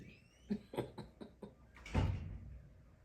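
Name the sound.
squeaky door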